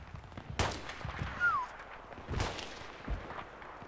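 Mortar fire in the Battlefield 3 video game: a few separate booming impacts spaced apart across a large-scale multiplayer battle, with a brief whistling tone between them over a steady background.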